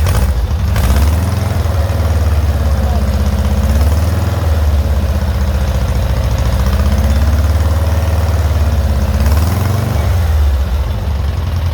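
A rebuilt 1600cc engine runs steadily at its first startup, a loud continuous low idle with a slight wavering rumble throughout and no talk.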